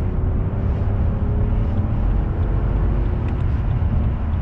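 A straight-piped V12 BMW limousine accelerates at full throttle in manual on a motorway, its deep, rumbling growl droning loud and steady from inside the cabin without a break.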